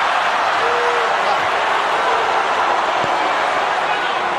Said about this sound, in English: Crowd boos anything that Rios does.